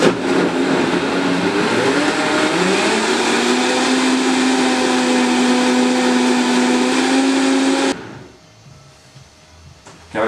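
A Vitamix blender whirs loudly and steadily while blending chia pudding, its pitch rising early on, then cuts off abruptly near the end, leaving faint room noise.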